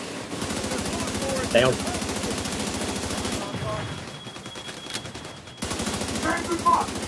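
Sustained rapid automatic gunfire in The Division 2, loud and close, with a brief lull mid-burst before the firing resumes, as a player speaks briefly over it.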